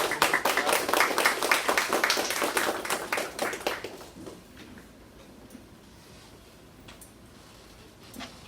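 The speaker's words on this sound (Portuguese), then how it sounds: "uma salva de palmas." An audience gives a round of applause at a business talk on tax reform, loud brisk clapping for about four seconds that fades into quiet room tone with a few faint stray sounds.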